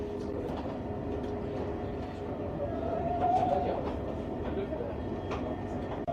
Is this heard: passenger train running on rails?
yes